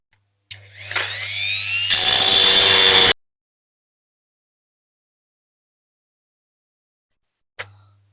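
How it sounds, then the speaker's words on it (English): A power drill whines up in pitch, then grinds loudly into diecast metal posts of a Dinky Plymouth Plaza model car for about a second before stopping; a brief click follows after a long silence. "What I think I'll do is just drill down these posts first"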